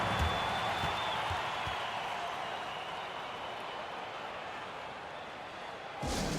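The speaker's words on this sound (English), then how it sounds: "DC family, a big round of applause for your Wizards" Arena crowd at an NBA basketball game between the Washington Wizards and Charlotte Hornets during a timeout, a broad, steady wash of cheering and applause that stays loud throughout, swelling again near the end.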